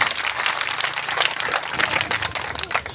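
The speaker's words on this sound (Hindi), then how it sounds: "धरना जरा एक बार जोरदार तालियां बजाइए" Crowd applause at a farmers' protest rally, a dense, steady crackle of many hands clapping through the whole stretch at a fairly loud level, with no voices over it.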